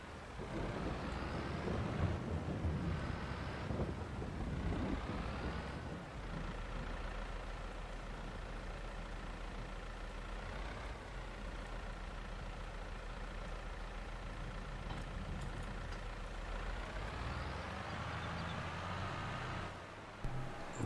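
A farm vehicle drives back to the farm in Farming Simulator 22, its engine droning steadily and continuously at a constant moderate level, with slight shifts in pitch as it travels and no talking.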